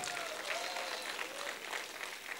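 Audience applause at a dance competition elimination round, greeting a judge: a steady, dense wash of clapping that holds for the whole stretch at moderate loudness, with a faint tonal hum running underneath.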